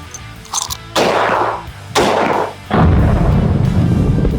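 Rounds of 7.62 armour-piercing incendiary ammunition from a 1943-made rifle barrel fire at an armour plate in a ballistic test, three loud blasts about a second apart, each ringing off with a rough decaying roar.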